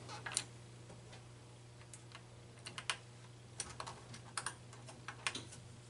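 Nuts being started by hand onto the metal posts of a Gottlieb pinball machine playfield: a run of small, sharp ticking clicks and light metallic taps at uneven intervals over a steady low hum, with no talking.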